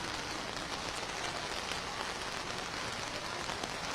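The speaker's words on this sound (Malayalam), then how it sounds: "അതിശക്ത മഴയാണ് കൊച്ചി നഗരത്തിൽ പെയ്തുകൊണ്ടിരിക്കുന്നത്" Heavy rain pours over Kochi city, a steady, dense hiss filling the whole scene at constant loudness with no pauses and no voices.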